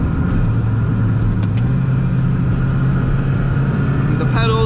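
A stock supercharged car engine with stock pulley and intake hums at a steady, loud low drone with a faint supercharger whine on top, pitch nudging up near the end.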